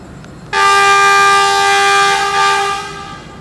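A loud, sustained horn from an Alsthom diesel locomotive departing a station in Ratchaburi, Thailand, blares for about three seconds, a rich multi-tone chord that holds steady before fading slightly.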